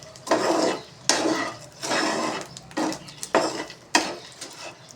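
A spoon scrapes and knocks against a metal pot in repeated bursts as cashew and almond powder is stirred into a laddu mixture, close and clear, with short pauses between strokes.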